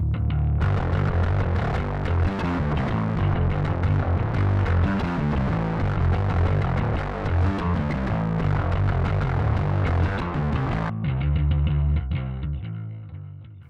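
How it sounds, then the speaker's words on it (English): A bass guitar plays a thick riff through heavy fuzz distortion, buzzing and gritty, then the last note rings out and slowly fades. "So I've went in and added a nice fuzz distorted tone to this part."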